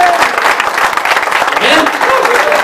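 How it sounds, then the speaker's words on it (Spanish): A church congregation at a men's meeting breaks into applause, a loud, dense wash of clapping from many hands, with voices calling out underneath throughout. "Dale un aplauso al Señor si tú crees que el Señor va a hacer eso contigo"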